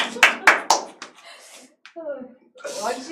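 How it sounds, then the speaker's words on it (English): A few slow, spaced hand claps in a classroom setting, loud and close, with a voice speaking in between. "Slow claps."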